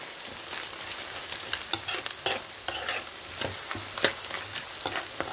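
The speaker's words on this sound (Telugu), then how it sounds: "వడియాలను కూడా వేసేసి ఉల్లిపాయతో పాటు వేయించుకోవాలి" Vadiyalu fry together with onions in a pan, giving a steady close sizzle broken by repeated scraping stir strokes and small crackles, with no voices.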